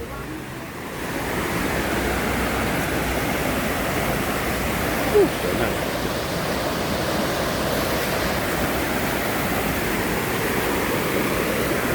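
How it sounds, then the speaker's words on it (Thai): Mo Paeng waterfall in Pai, Thailand, running after heavy rain, pours with a loud, continuous rushing roar heard up close that holds steady throughout. "Welcome to หมอแปง Waterfall"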